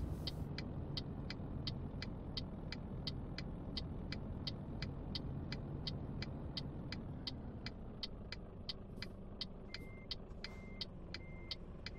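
Truck engine idling and rumbling while maneuvering a trailer in Euro Truck Simulator 2, a steady low drone with a regular ticking indicator clicking throughout and a few short beeps near the end.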